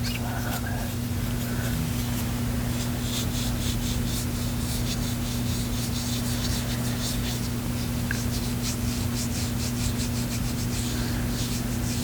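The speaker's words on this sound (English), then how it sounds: "Now I'm rubbing my knuckles against one another." Rough-skinned knuckles rub back and forth against each other up close, giving a continuous dry scratchy rasp over a steady background hum.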